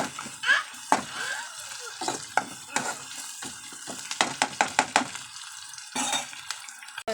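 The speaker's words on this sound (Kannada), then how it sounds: "ಕರಿಬೇವು ಹಾಕ್ಕೊಂಡ ನಂತರ ಕೈ ಆಡಿಸ್ಕೊಂಡು ಸ್ವಲ್ಪ ಹೊತ್ತು" Curry leaves stirred and fried in hot oil for chitranna, a steady close sizzle broken by repeated scraping clicks of a spoon against the pan, fairly near and moderately loud.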